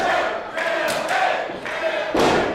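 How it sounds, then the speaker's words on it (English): Punches and chop hits land in an indie wrestling match, several sharp slaps and thuds in quick succession over a noisy, cheering crowd. "Nice punches and chop combination"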